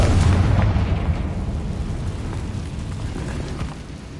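A Confringo fire spell explodes in Hogwarts Legacy: one loud, booming blast at the start, fading into a rumbling low tail that lasts several seconds, with no talking.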